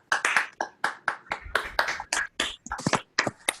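A handful of online participants clap after unmuting at the close of a virtual bluegrass talk, producing sparse, uneven bursts of close hand claps with short gaps between them.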